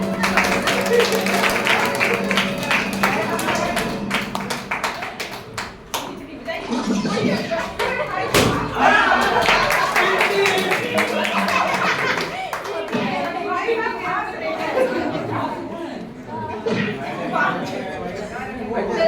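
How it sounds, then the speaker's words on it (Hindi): An audience clapping at a Diwali programme at Om Shanti Bhawan in Raebareli, a steady crowd of hands applauding close by, with a voice speaking over the claps. "ताली बजा दीजिए"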